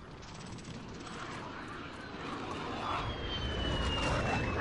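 VTOL aircraft in Call of Duty Armored Royale roars overhead in a continuous whooshing engine drone that grows steadily louder as it approaches.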